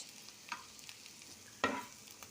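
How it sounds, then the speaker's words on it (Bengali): Onions fry quietly in a pan, a faint low sizzle broken by two brief clattering stirs of a utensil, the second sharper and louder, with no talk. "এবার এই পেঁয়াজটাকে সুন্দর করে ভেজে নেব।"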